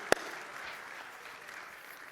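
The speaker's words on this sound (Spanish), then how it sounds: "Dale un fuerte aplauso a Él" A church congregation claps for the Holy Spirit during a sermon, a soft, distant spread of applause that follows a single sharp clap and stays steady and faint throughout.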